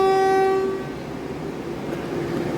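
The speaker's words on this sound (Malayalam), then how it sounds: "വന്ദേ ഭാരത് എക്സ്പ്രസ് നമ്മുടെ മൂന്നാമത്തെ പ്ലാറ്റ്ഫോമിൽ വന്ന് നിൽക്കുന്നുണ്ട്." A Vande Bharat Express at a platform of Kozhikode railway station sounds a loud, clear horn blast that cuts off after under a second, followed by a low, steady rolling rumble close by.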